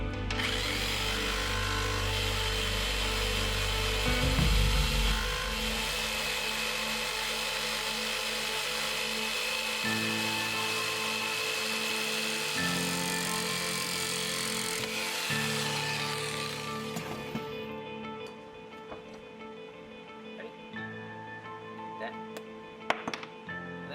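A power tool cuts through a block of wood held in a vise while a fishing lure is shaped, a loud steady whine with shifting pitch for about fifteen seconds, then stopping and leaving scattered handling clatter.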